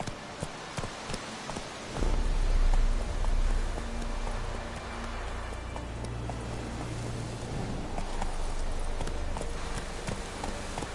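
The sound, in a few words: horse Roach galloping in The Witcher 3 video game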